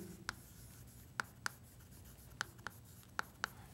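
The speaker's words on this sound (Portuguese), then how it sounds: "Então, vou escrever aqui, ó." Chalk strikes and short strokes on a board during a math lesson, seven sharp taps spaced irregularly against a quiet room, close and fairly faint, with no talking.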